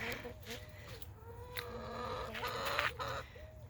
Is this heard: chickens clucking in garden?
yes